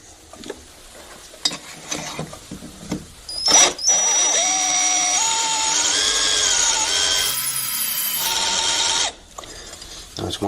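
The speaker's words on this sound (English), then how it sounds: "we're going to drill that stud out" A power drill bores out a stud and nut, oil added to the hole, running steadily and loud for about five seconds with a whining pitch, after scattered clanks and handling noises, then stopping.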